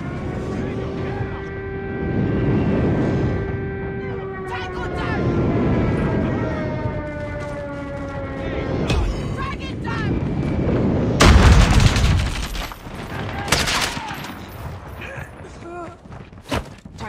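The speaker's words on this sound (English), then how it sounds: "Friendly airstrike incoming." Friendly airstrike in Call of Duty Mobile: an aircraft drone rises and falls, then heavy booming blasts hit in the last seconds, with talk during the clip.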